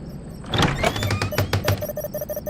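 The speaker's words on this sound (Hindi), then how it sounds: "जैसे ही दिया ने दरवाजा खोला" A door being opened in a courtyard house, a series of close wooden thunks and knocks with a short creaking scrape, followed by lighter rhythmic taps.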